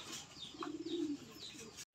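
A racing pigeon gives a soft, low coo at a loft, a single murmured call in the middle of a quiet, faint background, with a faint chirp just before it.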